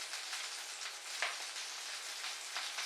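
Food frying in a pan with oil and butter, giving a steady close-up sizzle with crackling bursts and small spits throughout, alone without any talk.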